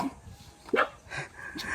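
Several dogs bark and yip in short bursts at a rural Philippine home, fairly close, with some whimpering between calls and faint background noise.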